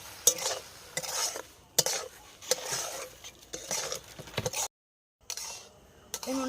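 Strawberry jam with sugar is stirred in a pan over low heat: repeated soft scraping strokes with light metallic clinks, broken by a short pause of silence before the stirring resumes.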